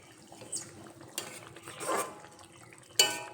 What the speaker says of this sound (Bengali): মাছগুলো একটু নেড়ে চেড়ে ঝোলের সঙ্গে মিশিয়ে নিলাম